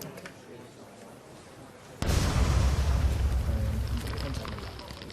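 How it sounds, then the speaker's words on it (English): A homemade bomb detonating in a test, a sudden loud boom after quiet background, followed by a long rumbling roar that slowly fades. "There was also this video of him testing one of his early bombs."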